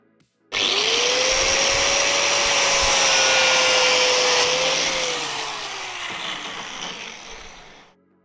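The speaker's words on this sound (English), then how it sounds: "With an angle gun grinder." An angle grinder cuts into a part during a mod build, starting abruptly with a loud, steady high whine that holds for about seven seconds, then eases slightly in pitch and level before stopping, with no talk over it.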